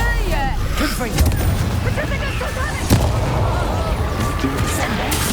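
Confringo fire-blast spells in the wizarding game Hogwarts Legacy, a steady loud roar of rumbling blasts and crackling impacts with one sharp crack standing out midway, with voices faintly in the mix.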